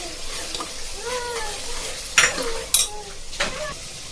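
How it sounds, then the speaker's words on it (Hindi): Ginger garlic paste sizzles softly in a pan for mutton dal gosht while a spoon stirs and scrapes, with a few sharp metallic clinks of utensil against pot. "अदरक लहसुन है ना, अच्छे से भून के लेंगे उसको।"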